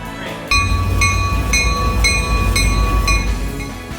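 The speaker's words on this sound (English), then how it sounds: "We were at the station only a few minutes when we heard our train approaching." A Rocky Mountaineer train rumbles steadily close by as it approaches the station, with a bright metallic chime ringing at a regular pace, about twice each second.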